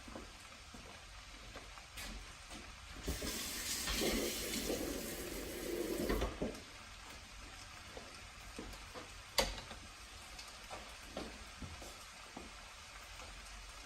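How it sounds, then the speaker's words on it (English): Tap water runs in a kitchen sink to rinse food while empanadas are prepared, a steady broadband rush lasting a few seconds before cutting off, followed by quieter clatter and small knocks around the sink. "Let's go rinse this off first."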